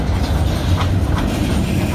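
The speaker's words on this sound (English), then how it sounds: "I'm going to film this train" A long freight train passes close by, with a loud, continuous rumble of wheels and rail clatter throughout and no voices.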